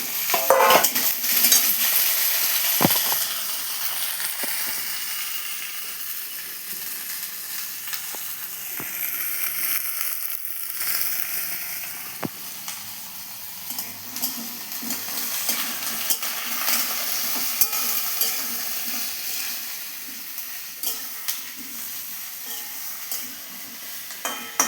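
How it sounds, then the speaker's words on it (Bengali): Potatoes and tomatoes fry with onions in a pan, a steady sizzle broken by repeated scraping clinks of a stirring utensil, close and continuous throughout with no talking. "এবার পেঁয়াজের সঙ্গে আলু টমেটোটা ভালো করে লাল করে ভাজবো।"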